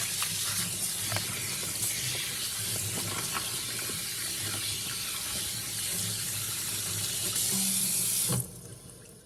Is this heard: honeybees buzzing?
no